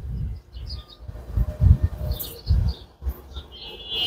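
Silver pigeons cooing in a loft, a series of low, soft, throaty coos pulsing close by with a few faint chirps in the background.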